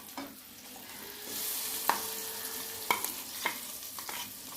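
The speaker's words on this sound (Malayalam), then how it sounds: "നമുക്ക് ഈ എണ്ണയിലിട്ടൊന്ന് വഴട്ടിയെടുക്കാം ഈ അരച്ചത്" Ground spice paste for chicken curry sautéing in hot oil, a steady close sizzle broken by a few sharp scraping stirs of a spoon against the pan, with no talking.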